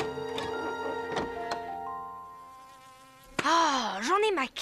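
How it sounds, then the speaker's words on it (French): Whining buzz of mosquitoes in a cartoon forest by a pond, rising suddenly and loud in the second half after quieter tonal music and a few soft thuds, with wavering pitch as they circle close. "Ah, j'en ai ma claque de ces sales moustiques."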